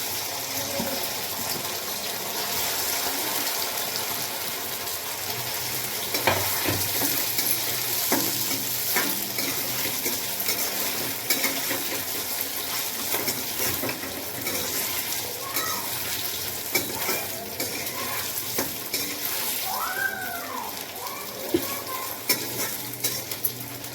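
Vegetables frying in hot oil in a home kitchen pan, a dense continuous sizzle and crackle with occasional stirring and utensil clinks, close and loud throughout with no talk.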